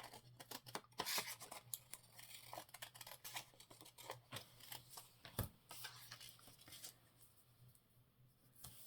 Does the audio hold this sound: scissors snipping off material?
yes